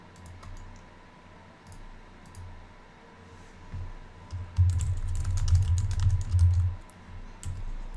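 Computer keyboard typing while organizing photo-editing presets, a quick run of soft clicks rising to a denser burst of keystrokes in the second half, close and alone with no talk.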